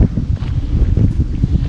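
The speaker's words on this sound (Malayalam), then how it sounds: "ഇപ്പം കാറ്റിൻ്റെ സൗണ്ട് കേട്ടോ" Strong wind gusting across the Amappara Caves hilltop, a loud, steady low rumble of buffeting air against the microphone, with no one speaking.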